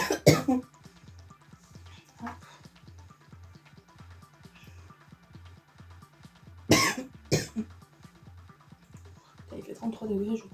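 Several close, harsh coughs come in bursts, a pair at the start and a louder cluster later, over a quiet rhythmic background during leather tack cleaning on a hot day.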